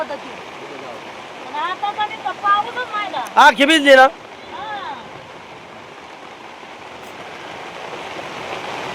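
Heavy monsoon downpour at an open camp with a cooking hearth and a windblown tent, a steady broadband rush of rain throughout, with a short burst of speech and nearby clatter in the middle.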